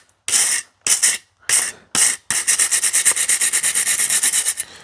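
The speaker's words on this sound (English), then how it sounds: "So we'll start with maximum abrasive with the old wire brush." A wire brush scrubs metal on a Citroen 2CV, first in four separate loud rasping strokes with pauses, then in a quick rapid run of short back-and-forth scrapes, close and harsh.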